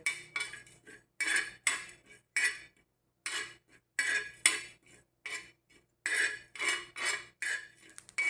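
A spoon scrapes and clinks against a pan as cumin, coriander seeds, fennel, cloves and peppercorns dry-roast over medium heat, in short, uneven bursts of stirring with brief pauses.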